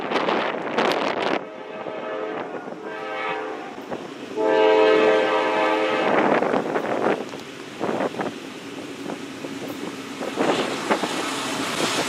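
A Norfolk Southern freight train, 29G, passes south of the Main Street railroad crossing in Asheville, Ohio, sounding several loud horn blasts over a rolling rumble, with wind buffeting the microphone.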